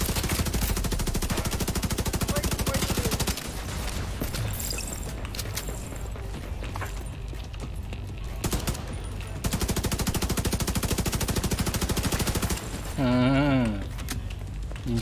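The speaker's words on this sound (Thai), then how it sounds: "ยิงจนลูกหมดเลยนะ" Rapid machine gun fire rattles almost nonstop in the shooter game Operation Dark Hour, loud and dense, with a brief lull of scattered shots midway and a short whooping electronic effect near the end.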